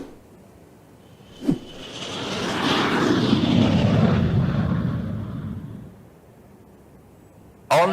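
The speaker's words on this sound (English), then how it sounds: "We need to send a plane for them." An airplane in a cartoon animation flies past, its engine roar swelling from quiet to loud and fading again, framed by sharp thuds at the start and end.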